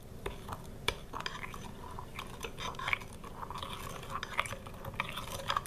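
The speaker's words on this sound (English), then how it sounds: "we're just going to stir this all together" A spoon stirs sugar and a little water together in a dish for Southern sweet potatoes, giving soft scraping and light clinking taps against the container with faint background noise.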